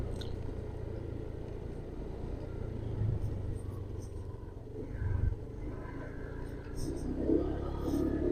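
Car moving slowly around the parking area of Kertajati airport, a steady low engine and road rumble running throughout with slight swells, fairly close and continuous, with no talk over it.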